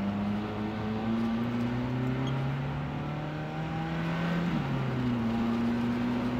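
A 2006 Ferrari F430 Spider driving in sport mode, its engine droning steadily from inside the car, with the pitch rising and a gear shift heard partway through before the note climbs again. No one speaks.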